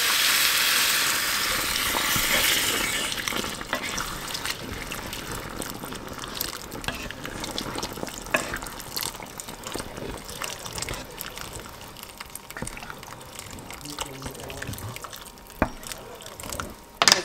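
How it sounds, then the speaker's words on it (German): Water is poured off during cooking, a rushing gush at first that thins into trickles and scattered drips, close by, with faint background sound and no clear talk. "Wasser abgießen."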